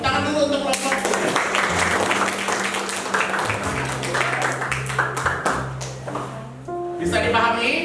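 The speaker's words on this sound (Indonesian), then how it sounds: "Tepuk tangan dulu untuk kelompok 3." A school class applauds a student group coming forward during a teaching-practice lesson, a busy burst of clapping mixed with taps and pinging tones, with voices and other classroom sounds running under it throughout.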